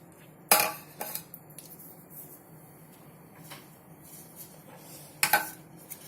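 Sugar being stirred into a pan for milk peda, off the heat, with a few sharp metallic clinks of a utensil against the pan near the start and end and quieter scraping between.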